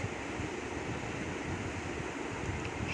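Chopped onions frying in hot oil for a tomato and aubergine bhorta, a steady, dense, hiss-like sizzle that fills the whole stretch without pause, loud and close with no voices.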